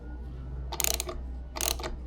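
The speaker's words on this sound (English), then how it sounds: "it's getting to the tapered part that's going to cut the threads for the outside of this" A thread tap is turned slowly by hand to cut threads in an engine part, making two short, close ratcheting scrapes separated by a quiet pause over a low hum.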